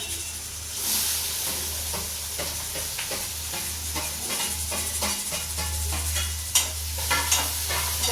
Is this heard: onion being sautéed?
yes